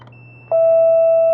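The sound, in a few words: door station beeping as vehicular gate opens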